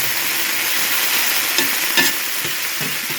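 Minced garlic sizzles steadily in a hot pan over reduced heat, with a few scraping stirs of a utensil cutting through the constant close crackle.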